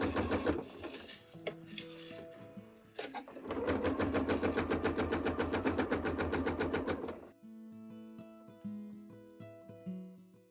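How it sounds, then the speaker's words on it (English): Sewing machine with a free-motion embroidery foot stitching a small fabric bunny along a traced line, rapid rhythmic needle chatter in several bursts with pauses, close and clear over soft music. "Next, sew along the traced line,"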